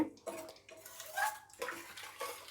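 Rice and water are stirred together in a pot for tomato rice, giving close, wet sloshing swirls in short bursts.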